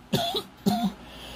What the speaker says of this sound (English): Sorry about the cough, everybody.